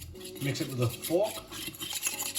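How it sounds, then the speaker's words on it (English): A fork stirs sweet and sour sauce ingredients in a bowl, giving a continuous scraping, clinking rub close up, with some faint voice-like tones mixed in. "Mix it with a fork."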